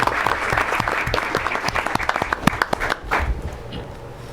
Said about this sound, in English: Let's give audience and all the DSAC students another round of applause.